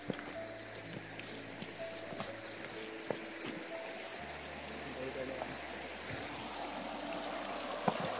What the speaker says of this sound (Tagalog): ito yung mga sapa